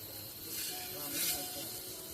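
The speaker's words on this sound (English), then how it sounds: "You can hear the sizzle." Pork fat greasing a hot outdoor barbecue grill in Thailand gives off a steady, close sizzle, a continuous hiss that swells briefly midway.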